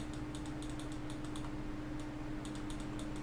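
Quick bursts of keystrokes on a computer keyboard, two clusters of crisp clicks separated by a short pause, heard over a steady low hum.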